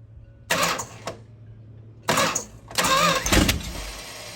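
A seven-cylinder engine on a ground run cranks in short bursts, with two brief grinding attempts and then a longer, louder stretch as it catches and sputters toward starting, heard fairly close with pauses between tries.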